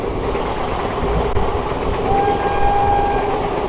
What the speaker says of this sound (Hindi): हम गुजर रहे हैं सोनिक रेलवे स्टेशन से